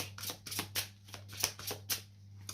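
Oracle cards being shuffled and laid down, a quick series of crisp, close riffling snaps and slaps in an uneven rhythm, with a low steady hum underneath and no talk.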